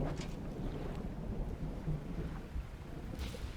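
Video game thunderstorm with deep, rolling thunder rumbling continuously over a rain wash, low and heavy, no voices present.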